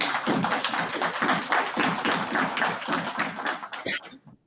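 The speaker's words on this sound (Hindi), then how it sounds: "तो उसके लिए भी जोरदार तालियां" Dense, steady applause from a crowd at a Dussehra gathering of Himachali expatriates in Canada, a rolling patter of many hands that fades out abruptly at the end.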